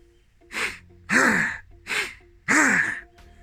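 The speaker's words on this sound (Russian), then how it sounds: "Это быстрые вдохи и резкие выдохи." Quick, sharp breaths of the kind used in combat training, four forceful bursts in an uneven rhythm, close and loud, with no talk.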